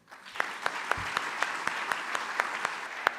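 Audience applause at a short film competition award ceremony, a dense wash of clapping with sharper individual claps standing out, moderately distant and sustained throughout.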